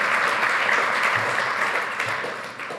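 Steady applause from a conference session audience, a dense wash of clapping that holds for a few seconds before easing slightly at the end.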